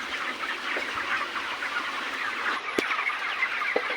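Chickens cluck on a contract farm where poultry and fish are raised together, a scattered chorus of hens at moderate distance with a few sharper calls over a steady background.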